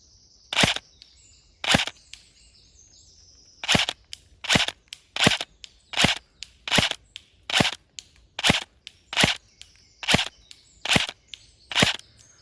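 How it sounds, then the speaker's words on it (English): Gas-blowback airsoft pistol firing BBs, around fourteen sharp snapping shots with uneven pauses, a pair early on then a quicker, fairly even string, loud and close with nothing in between. "just gonna take a few shots"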